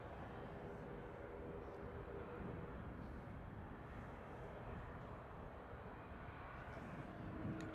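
An airBaltic aircraft taxiing at Manchester Airport, heard as a steady, fairly distant engine rumble and whine that holds at an even level throughout.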